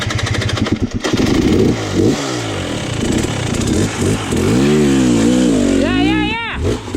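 A dirt bike engine revs hard and climbs through its range, up close, with harmonic sweeps rising near the end, while people talk over it.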